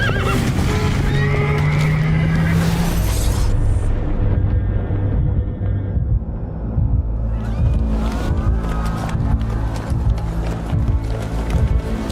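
A horse whinnies loudly and close, with a long neigh at the start and another later, over heavy rain and clip-clop hooves during a rainy road accident.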